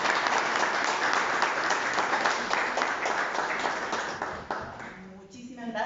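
An audience at a book launch gives a lawyer being introduced a strong round of applause. The steady, full clapping lasts about five seconds, then thins and fades out, and a voice begins speaking at the very end.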